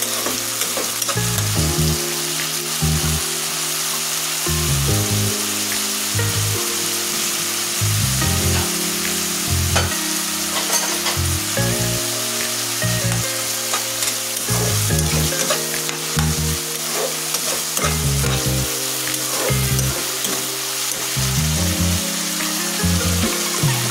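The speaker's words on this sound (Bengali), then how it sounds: "ভালোভাবে এটা আমি ভেজে নেব।" Food frying in a pan in Bengali home cooking, a constant close, loud sizzle with frequent clinks and scrapes of stirring throughout and no voices.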